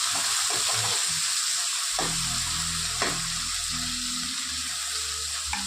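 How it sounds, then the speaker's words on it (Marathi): Goat fat frying in a little oil and rendering down, giving a continuous loud sizzle with occasional stirring and low-pitched bubbling. "हे टाकत आहोत चरबी आता ह्याचं तेल करून घेणार आहोत"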